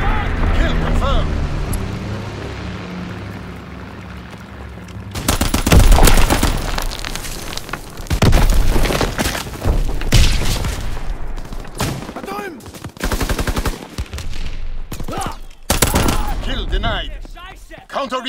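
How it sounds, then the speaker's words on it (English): Loud bursts of gunfire and heavy explosions from mortar fire in the World War II shooter Call of Duty: WWII, arriving in repeated close blasts over a quieter opening stretch, with an announcer voice heard alongside. "Enemy mortar fire incoming."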